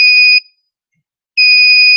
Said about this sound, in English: now it beeps in time with the light